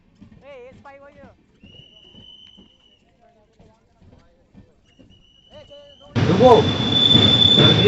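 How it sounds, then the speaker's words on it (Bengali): Quiet talk and a few high tones give way to a sudden loud rush of a train entering the station, swelling and continuing to the end. "ট্রেন ইতিমধ্যে স্টেশনে প্রবেশ করছে"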